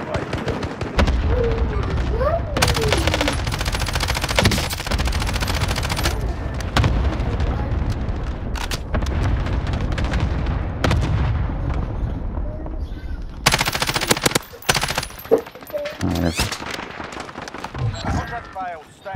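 Gunfire in Call of Duty Warzone, loud and dense shots and bursts crowding a chaotic firefight with explosion-like booms, while people talk over the action throughout.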